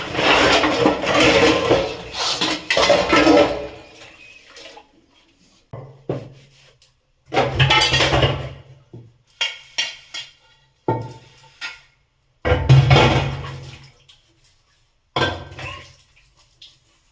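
Dishes, pots and pans being scrubbed and washed by hand in a Konkan village home, heard as bursts of clinking, scraping and rinsing separated by short pauses.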